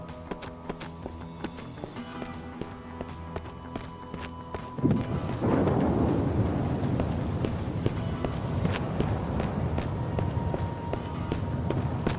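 Rain and a storm in the video game Best Month Ever!. Quiet tapping and scattered clicks give way to a sudden, steady wash of heavy rain that stays loud and close to the end, with quick running footsteps within it.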